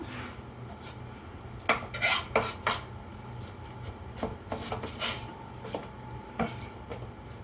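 A knife chops through a pineapple that looks past its best, giving a run of sharp, close cuts and rasping strokes in irregular bursts, with some scraping against a board between the hits.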